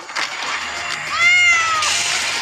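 A cat meows one drawn-out, rising-then-falling cry, close and clear, with no talking over it.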